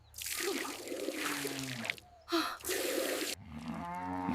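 A cow lows in long, deep moos while being milked, with gushing, splashing milk noise filling the gaps between calls, close and steady.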